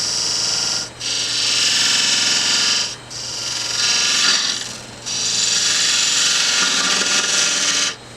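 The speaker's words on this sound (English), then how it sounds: "I'm going to go with a little bit more of a detail gouge." Wood turning on a lathe with a detail gouge: a steady, bright scraping whir of the cutting edge against spinning wood, in several sustained passes broken by short pauses, close and fairly loud with no talk.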